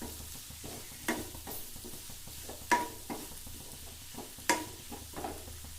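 Bottle gourd pieces with chilli powder sauté quietly in a pan, a soft low sizzle broken by a few distinct stirring scrapes and taps of a spoon against the pan.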